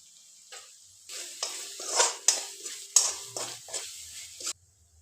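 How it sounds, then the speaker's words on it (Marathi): Spices including red chilli powder, coriander powder and garam masala being stirred and sautéed in a pan for pulao rice, with a soft sizzle and repeated scraping strokes of a spoon against the pan, close by. "हे व्यवस्थित परतून घेऊयात"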